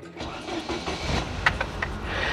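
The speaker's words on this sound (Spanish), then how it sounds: "vamos a darle marcha ahora sí a nuestro coche" A car engine cranks and catches after being jump-started from a cordless drill battery, rough rhythmic churning building into a steady idle, fairly close, with no talk over it.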